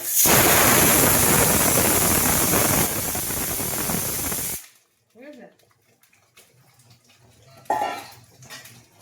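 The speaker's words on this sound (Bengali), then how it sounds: "তরকারিটা আমার 2টো সিটি হয়েছে, আমি এক্ষুনি তো করে নেবো, আরেকটা সিটি মারবো" A pressure cooker cooking curry whistles and vents steam in a loud, continuous hissing rush for about four and a half seconds, then stops abruptly, leaving a quieter kitchen where a voice speaks faintly.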